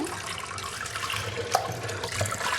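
Chicken pieces being washed by hand under running tap water, a steady low wash of flowing water with small splashes and a couple of brief sharper knocks, fairly near and continuous, with no talking.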